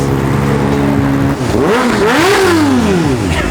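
A Kawasaki ZX-4RR motorcycle with a Villain full-system exhaust blares loudly, idling rough and then revving up and down in several swelling, throaty bursts close by.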